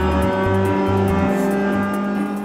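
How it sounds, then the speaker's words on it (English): A Mazda four-cylinder race car revs hard toward the red line and launches out of pit lane, its engine loud and close with a steady buzzing drone and pulsing throttle surges. "he revs the Mazda 4-cylinder up to the red line and slams it into first for his launch out of pit lane"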